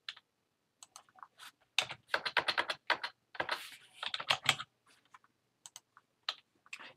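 Irregular bursts of keystrokes on a computer keyboard, typed slowly with short pauses between clusters of clicks, close and clear with no talking.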